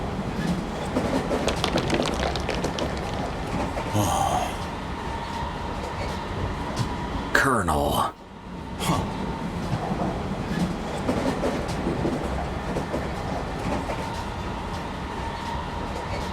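Train cars in a video game clatter steadily along the rails in a continuous dense rumble, broken by a brief sharp swishing whoosh partway through, with a single short spoken word.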